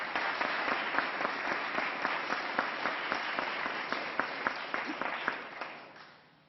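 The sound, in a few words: audience round of applause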